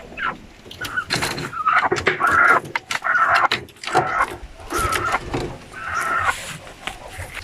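Native chickens cluck in irregular, overlapping bursts, close by and fairly loud, with no one talking.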